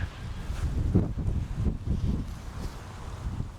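Wind buffets the microphone on a solo motorcycle ride, a steady low rumble with gusty swells that rise and fall throughout, close and fairly loud with no talk.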